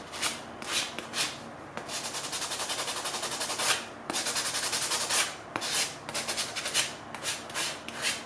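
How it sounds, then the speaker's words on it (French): Scraping the coating off a metal bracelet by hand during jewelry making, a close, dry rasping in quick repeated strokes with brief pauses between bursts, no talking. "il faut vraiment enlever la couche, et ben, on va gratter"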